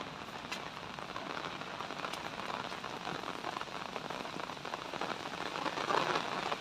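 Steady rain falls on surfaces around a house, a dense continuous patter of drops with a few sharper isolated hits, fairly close and even in loudness, no voices.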